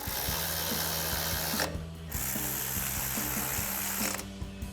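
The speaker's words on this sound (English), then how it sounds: "grab our ratchet and 10mm socket and tighten those down" Ratchet wrench with a 10mm socket tightening suspension bolts during a front coil-over install on a Silverado 1500 pickup, giving steady repeated clicking strokes in bursts with short pauses, close and alone without talk.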